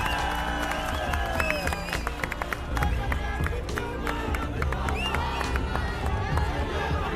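A large political rally crowd welcoming AAP leader Sanjay Singh with applause, whistles and cheering, a dense, continuous din with voices and shouts mixed in throughout.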